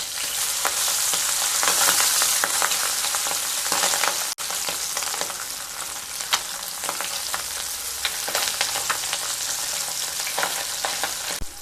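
Tangra fish frying in mustard oil with a little salt: a dense, steady sizzle with crackling pops and occasional spatula clicks, close and fairly loud, with no voices.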